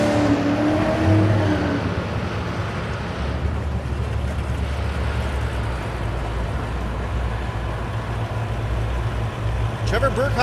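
A Camaro drag racing at Thunder Valley in Noble, Oklahoma. A loud, steady engine drone rumbles under heavy wind buffeting, with a voice mixed into the din.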